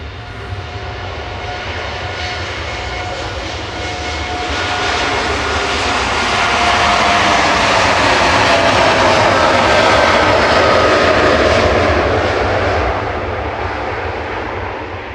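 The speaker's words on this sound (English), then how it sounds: "Air Canada departing now, heading back to Toronto" An Air Canada jet airliner departing Manchester Airport for Toronto roars continuously, swelling louder toward the middle as it passes close by and then easing slightly, with no voices.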